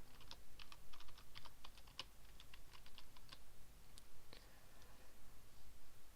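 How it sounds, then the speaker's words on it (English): Quick bursts of typing on a computer keyboard as a subdomain name is entered, irregular clusters of crisp key clicks close to the mic with short pauses between, and no talking. "So type in our subdomain"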